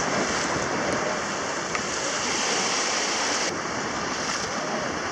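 Sea water washing and rushing steadily around a small sailing boat racing in the Mini Transat 2015 ocean crossing, a continuous broadband hiss of waves and spray with some wind, close and unbroken throughout.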